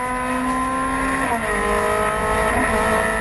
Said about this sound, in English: The engine in Booth's out of position Ferrari howling as they took the green.